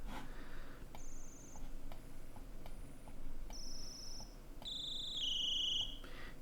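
Synthesized crickets from a Korg Multi/Poly synthesizer with added room reverb: sharp, high electronic chirps and short sustained tones come in bursts over a faint steady hiss, with soft clicks between them.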